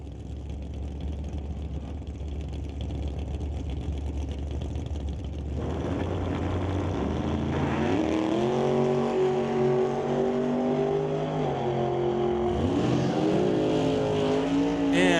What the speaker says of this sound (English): the Dart Sport, dials in 608 to Brad Powell with the 67 Chevelle dialed at 535 as we roll into electronics at the first pair in the second round.